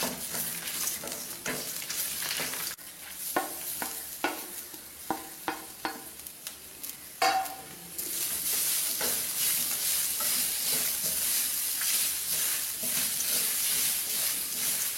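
A spoon scrapes and knocks against a pan in a run of sharp strokes while roasting grated coconut, then a steady frying sizzle takes over and continues to the end.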